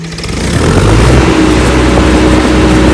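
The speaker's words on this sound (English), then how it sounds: "when you start the engine drive" A Lincoln engine-driven welder starts up, its engine catching and building within half a second to a loud, steady, close-up running roar.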